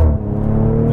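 A 450 PS Audi RS4 Avant B9 with a torque-converter automatic, driven in Dynamic mode, gives a loud, close, deep engine roar that shifts in pitch during a quick gear change.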